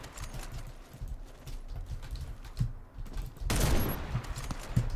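Gunfire from the shooter game Warface rattles in quick bursts of muffled shots over a rumbling background, with a louder, brighter burst near the end.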